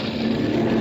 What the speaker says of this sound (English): It is the steady drone of the plane